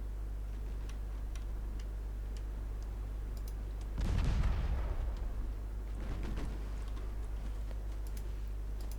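Naval gunfire from 7.5-inch guns in a naval combat strategy game: a single heavy boom lands midway through and rolls out over a couple of seconds, amid sparse ticking clicks and a steady low hum.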